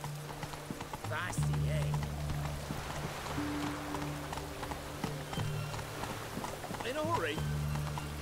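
A horse's hooves clip-clop at a quick pace in The Witcher 3 video game, steady and close under game music and a man's spoken lines.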